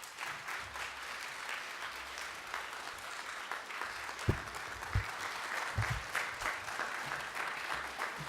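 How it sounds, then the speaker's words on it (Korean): A church congregation at a Wednesday worship service stands and claps in welcome, a steady wash of applause with a few louder nearby claps standing out. "다 같이 함께 일어나셔서 격려 박수로 환영해 주시기 바랍니다"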